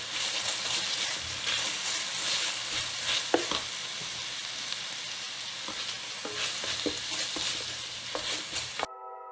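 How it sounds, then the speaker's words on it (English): Chopped onions sautéing over low heat in a pan for a Belgian carbonnade flamande, a steady soft sizzle with occasional stirring clicks and scrapes, close and continuous, no talking. "We're going to saute these on low because we want to kind of get them to caramelize."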